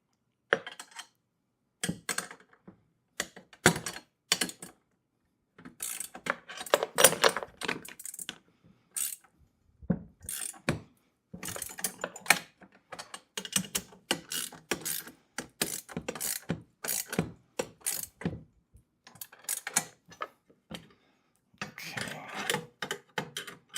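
Ratcheting clicks from a wrench tightening bolts on a heavy-duty four-wheel garden dump cart wagon, coming in quick bursts of close mechanical clatter separated by short pauses.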